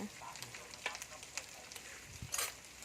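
Field rats being stir-roasted in a pan, heard as soft continuous sizzling with scattered scraping and clinking stirring strokes, fairly close and quiet.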